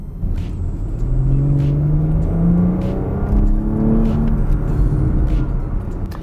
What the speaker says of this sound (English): I recommend getting the Porsche Sports exhaust system because it's such a rewarding piece of kit